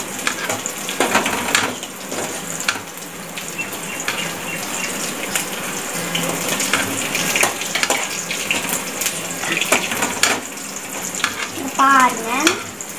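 Chopped onions frying in a pan with tomatoes going in: a steady sizzle with stirring and scraping throughout, a few clinks of a spoon against the pan, close and moderately loud with no talking.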